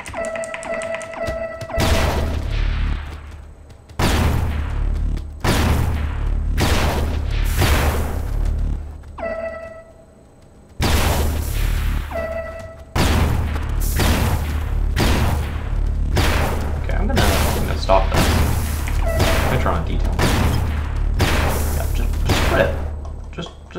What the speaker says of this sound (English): Laser sentry turret.